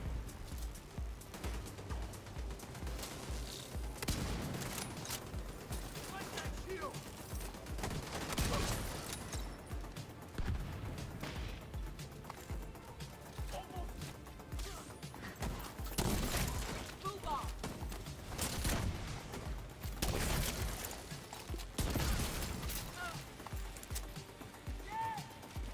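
Rapid bursts of gunfire from The Division 2 crack out in repeated volleys, loud and close, layered over busy game action noise.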